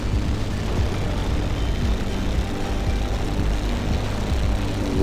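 A heavy airliner's engines roar steadily in Microsoft Flight Simulator, a dense, broadband drone holding constant and loud throughout with no talk over it.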